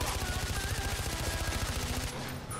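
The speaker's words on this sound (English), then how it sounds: "I'm trying to shoot them" Rapid automatic gunfire from shooting at enemies in Far Cry 4, a fast even rattle of shots that runs for about two seconds and then abruptly stops.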